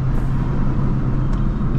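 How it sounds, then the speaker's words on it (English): Chevrolet Camaro SS with Corsa exhaust, a loud deep engine drone heard close from inside the car while driving, steady and rumbling with no talk. "love this exhaust"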